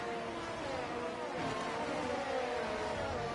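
Race cars lapping Monza in a sim racing game, with a faint, steady engine drone and a slight rise in revs midway through, no voices heard.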